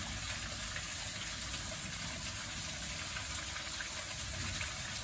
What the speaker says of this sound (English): you can hear that water